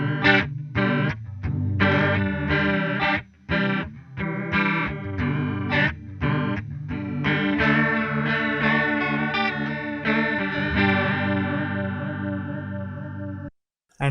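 An electric guitar runs through a Coppersound Polaris chorus pedal with the focus knob turned all the way up. Chords and riffs stop and start choppily at first, then ring out into a long, shimmering sustained chord that fades, with no talking.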